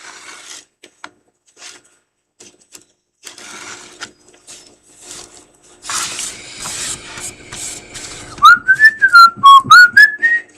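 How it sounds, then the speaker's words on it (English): A person whistles a short run of high, sliding notes near the end, loud and close, after several seconds of quiet scraping and rubbing sounds from crafting foam tiles. "I shouldn't whistle, should I? Because it's high pitched"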